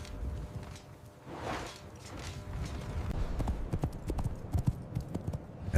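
Hooves of Lydian cavalry horses charging with heavy lances pound in a steady, rolling clip-clop that builds in loudness over a low rumbling ambience.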